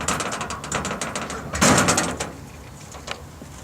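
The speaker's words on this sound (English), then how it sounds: "open the door" Door of a CEVEC bus heater unit with a mechanical safety lock swinging open, a clunky latch-and-hinge mechanism with a burst of rattling clicks and one louder knock partway through, close and alone.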